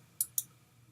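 A computer mouse clicking the place order button, two sharp, quick clicks about a fifth of a second apart, close and quiet over faint background hum.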